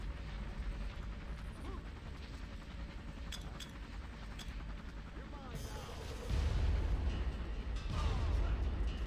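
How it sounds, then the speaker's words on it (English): Far Cry video game grenade blast, a heavy low boom swelling from a busy ambient background of distant gunfire and rumble, fairly faint overall. "I think the grenade got him, finally."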